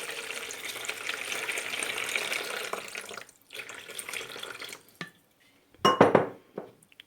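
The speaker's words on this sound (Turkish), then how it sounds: "güzelce karıştıralım" A warm milk, water and oil mixture for pizza dough is stirred in a bowl, with a soft continuous swishing followed by scattered clinks and scrapes of a utensil against the bowl, separated by quiet gaps.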